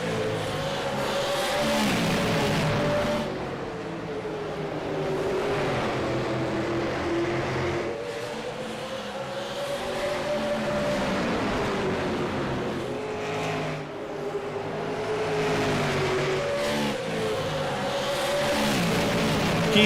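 Race cars in a national tour race on a track, their engines roaring continuously with rising and falling pitch as they run close and loud, with no talk over them.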